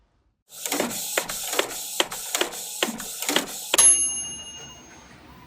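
A 3D printer prints a kitchen item, its stepper motors sounding a run of about seven rhythmic whirring bursts before dropping into a faint high whine and quiet hum. It is close and clear, with no voices.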